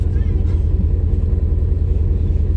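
A Toyota Cressida car engine runs with a loud, steady low rumble that stays close and constant throughout.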